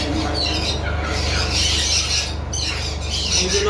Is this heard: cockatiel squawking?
yes